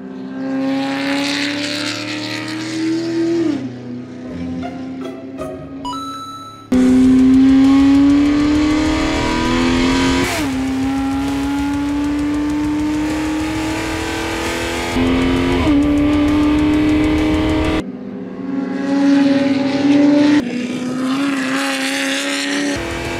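A Fiat Multipla engine tuned to 1294 hp runs loudly and steadily, its pitch rising and dropping as it revs, with a brief cut and a few shifts in tone.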